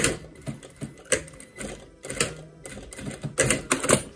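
A home sewing machine back-tacking a short seam on a fabric scrunchie with elastic, giving brief rapid bursts of needle stitching that stop and restart several times, close and fairly loud.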